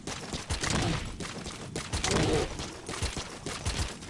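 Gunfire in Metal Gear Solid V: The Phantom Pain, with several sharp shots aimed at a bear, rubber rounds from a suppressed weapon popping in a loose irregular series over game ambience.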